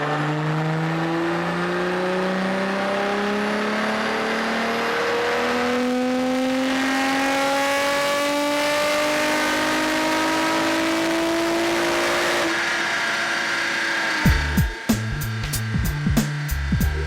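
An HKS GT800 racing-spec Nissan GT-R R35 demo car on the Fuji Speedway circuit climbs through the gears, its engine note rising in long sweeping pulls with brief shift breaks, ending in a burst of rough, clattering noise.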